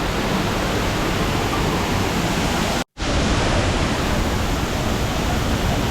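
Sera Ella waterfall in a forest in Sri Lanka: a loud, constant, dense roar of falling water heard up close, unbroken apart from a brief cut, with no voices.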